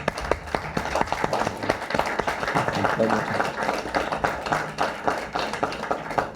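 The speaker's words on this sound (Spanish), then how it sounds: "Un aplauso" An audience at a cofradía evening event applauds, a dense roomful of clapping with distinct individual claps rising out of the steady roar, continuous throughout with some voices mixed in.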